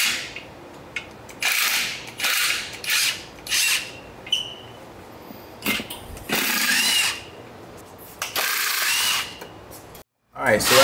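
A power tool drives out clutch pressure plate bolts on a 2023 manual Toyota Supra, with loud close bursts of whirring and ratcheting separated by short pauses and a brief silence near the end.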